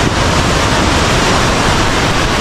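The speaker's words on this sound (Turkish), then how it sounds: "Hatta şurada da şelale var arkadaşlar. Şelaleyi de göstereyim arkadaşlar." The Catarata Honolulo waterfall near Tingo María, Peru, pours as a loud, continuous, broadband roar of falling water, close and unbroken throughout.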